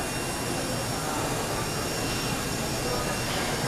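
A Walkera Lama remote-control helicopter flies nearby, giving a steady, loud whirring rotor and motor drone that holds evenly throughout without pauses.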